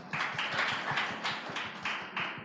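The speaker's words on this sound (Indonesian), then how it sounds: "Tepuk tangan buat jemaat Kana" A church congregation at a Sunday worship service claps together in a steady, even rhythm. The sharp claps repeat evenly at a moderate loudness with no talking over them.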